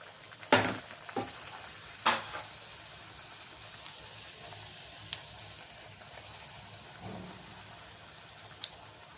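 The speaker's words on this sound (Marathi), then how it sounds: "आता आपण तळून घेऊया तर तेल मी हे गरम केलेलं आहे कढईमध्ये" Beetroot puris fry in hot oil in a kadhai, a quiet sizzle broken by a few sharp splashes and bursts near the start, then sparser crackles.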